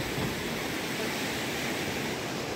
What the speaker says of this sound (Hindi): लहरें आ रही हैं।